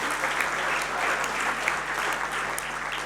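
A conference audience claps steadily after a presentation at a training centre, an even wash of applause with a faint low hum beneath.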